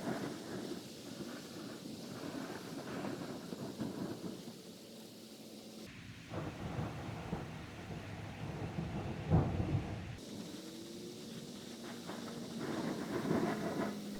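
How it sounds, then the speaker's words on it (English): A thunderstorm rumbles with continuous rain and deep rolling thunder, steady and moderately loud, with a louder crack near the middle, and no voices. "take a second and enjoy the storm with me"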